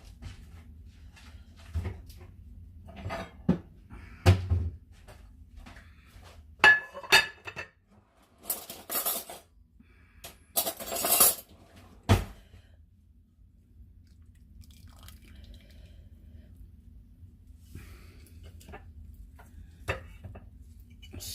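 A dish being handled to pull out cooked buffalo chicken: a few scattered clinks, knocks and scraping thuds in a quiet kitchen, with a brief burst of clattering in the middle and long near-silent gaps.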